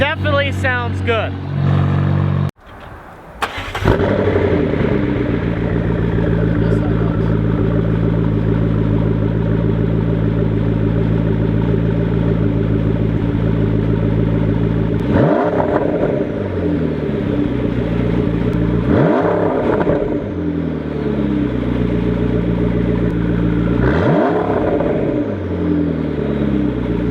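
A McLaren 570S with a sports exhaust starts up and idles loudly and steadily. Repeated throttle blips rise and drop back, each one followed by a short crackle.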